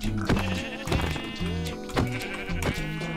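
Sheep bleating in the Minecraft video game, several wavering game bleats repeating in quick succession, loud and close, with no talk over them.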